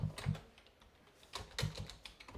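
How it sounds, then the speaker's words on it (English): Fingers type on a computer keyboard while text is entered into a Visio diagram shape, a short quiet burst of a few clustered key clicks with small pauses between them. "And we're going to type in"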